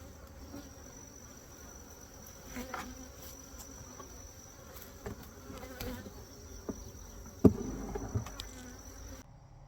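Honey bees swarm over a farm hive fitted with wet, freshly extracted supers, giving a steady, low, close buzz with scattered louder passes and a few brief knocks.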